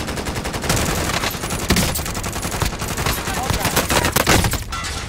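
Hostile gunfire in a first-person shooter, dense and continuous bursts of automatic fire and loud overlapping shots filling the whole stretch at close range.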